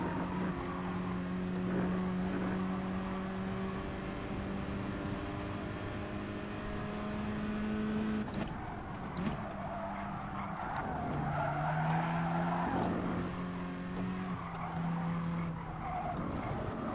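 Race car engines rev and howl with tire skids in a Gran Turismo Sport online race, a steady loud engine drone shifting pitch throughout, with rising revs in the second half.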